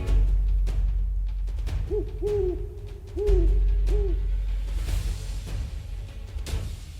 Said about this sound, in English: In northern Siberia, upon the white snow, rests a shadow equally white, the snowy owl.